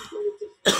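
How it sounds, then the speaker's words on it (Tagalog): A short throaty sound like a voiced clear of the throat, followed by a sharp, breathy cough close by. "Grabe ang ubo na ko karon eh."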